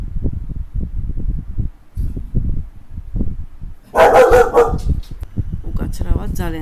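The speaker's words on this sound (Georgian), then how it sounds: "ძალიან ცერქი ძაღლი მყავს." A pet dog barks in a home, a loud close burst of sharp barks and yips in the middle, while someone talks steadily throughout.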